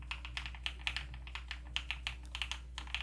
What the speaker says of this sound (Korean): 이게 키감이고 이게 키소리지